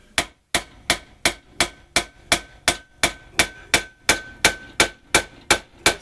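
A rear bearing for a 1963-1982 Corvette is driven in with a homemade brass drift, struck by about fifteen loud, evenly spaced hammer blows, each a sharp ringing metallic clang with a short decay.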